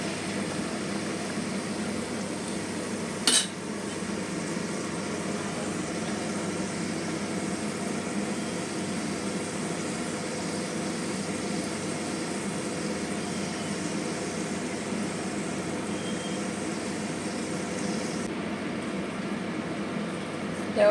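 Aloo puri frying in hot oil in a wok: a steady, even hiss of sizzling oil runs throughout, with one brief sharp click early on and no voices.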